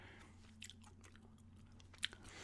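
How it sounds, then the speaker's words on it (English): Gum chewing close to the mic in a quiet room, soft wet smacks and small clicks in an uneven rhythm, faint over a low steady hum, with one sharper snap near the end. "I figured I'd just throw a basic gum chewing ramble up and see how it looks"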